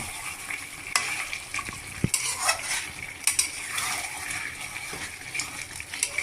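Chicken fries in a pan with all the spices added at once, sizzling steadily while a utensil stirs and scrapes against the pan in irregular knocks and clatters.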